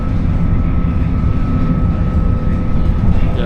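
Steady low rumble and rolling hum of an Irish Rail train running from Dublin to Cork, heard on board, continuous and fairly loud with a faint tonal whine, no voices.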